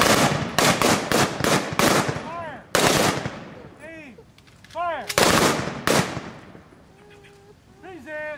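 A ceremonial rifle volley at a Memorial Day salute cracks out as loud, sharp reports in quick clusters, with echoes and quieter chirping sounds between the shots.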